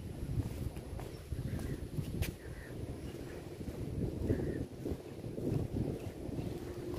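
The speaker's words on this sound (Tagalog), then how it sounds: "Ang hangin." Strong wind buffets the microphone in low, rumbling gusts over the open water at Sembawang Park, Singapore, with faint splashes and an engine hum in the background.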